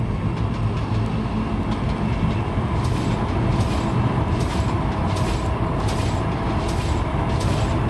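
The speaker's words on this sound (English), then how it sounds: "That's a little bit noisy. Hopefully, um, you can hear me over the trains." Trains running in the Trainz railway simulator, a continuous loud rolling rumble with a rapid clattering rhythm of wheels over the track and a faint high whine throughout, heard alone without talk.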